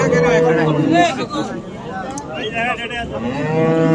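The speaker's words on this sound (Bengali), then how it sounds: "গাভী" A dairy cow with her calf moos loudly and close by at Ambari cattle market, a long drawn-out low call, with people talking over and around it.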